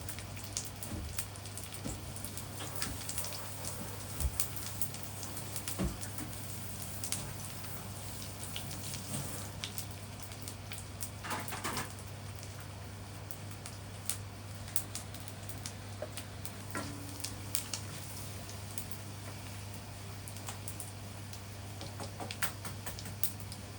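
Anchovy fried rice ingredients sautéing in a pan, a steady crackling sizzle with scattered pops and ticks running continuously at moderate level, no talking.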